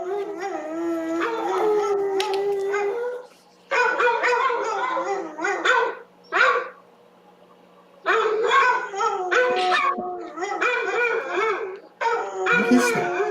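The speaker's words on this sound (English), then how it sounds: "Howling bassets." Basset hounds howling in long, wavering, pitch-sliding bays, several dogs overlapping in bursts separated by short pauses, loud and close, with a steady low hum underneath.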